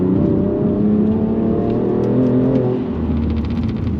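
A stock BMW M2 Competition engine revving and pulling hard, rising in pitch through the gears, loud and heard from inside the cabin with no speech.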